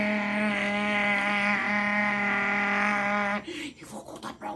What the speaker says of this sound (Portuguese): colocou, ligou a moto e foi.